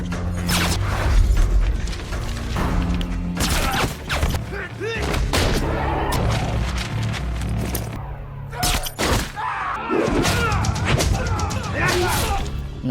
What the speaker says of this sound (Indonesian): Aksi baku tembak antara Jack Shigeru melawan anggota Triad pun terjadi dengan begitu sengit